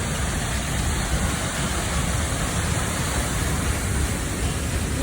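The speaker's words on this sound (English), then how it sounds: "Here we go to this magnificent waterfall." Mossy waterfall in Bryce Canyon, a steady broadband roar of falling water, loud and close, continuous and unchanging throughout with no voices.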